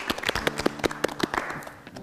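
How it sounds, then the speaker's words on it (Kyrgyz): A small studio audience on a Kyrgyz television show claps in a brisk, uneven patter of distinct hand claps that thins out and fades toward the end. "Кол чаап коелу."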